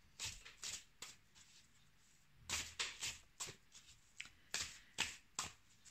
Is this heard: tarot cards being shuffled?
yes